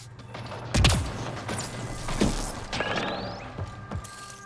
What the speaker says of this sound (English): He's actually shooting at us, too.